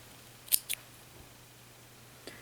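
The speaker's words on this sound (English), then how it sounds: "And then we can cut our yarn." Two quick crisp snips of scissors cutting yarn at the end of a crochet headband round, close by over a quiet room hum, followed by a faint later click.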